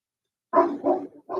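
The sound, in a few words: dog barking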